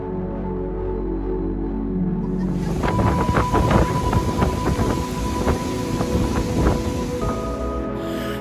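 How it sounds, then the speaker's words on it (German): Stormy wind gusts with rough surf on the Baltic Sea coast of Lithuania, a steady roar of blowing wind and crashing water with repeated louder bursts, heard alone without voices. "Für den Morgen war eine halbe Stunde Sturm angesagt und das kam auch so."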